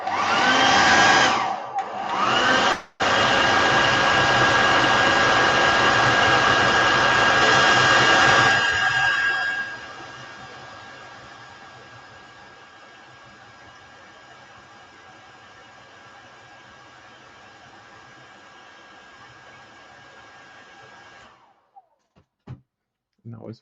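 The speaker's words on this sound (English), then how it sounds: "Let me just use the hairdryer, so apologies for the noise." A hair dryer roars loud and steady while drying a painted Galvanic Wyrm miniature, with a brief cutout early on, then drops to a lower, quieter setting before switching off near the end.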